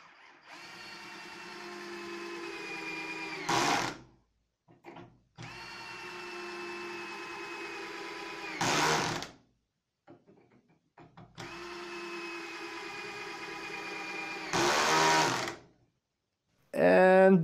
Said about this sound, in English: Let's test how drill performs with 3 8 cm long wood screws.